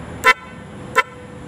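Two short, loud blasts from a snail-type horn fitted to a Yamaha Byson motorcycle, spaced well apart with quiet in between.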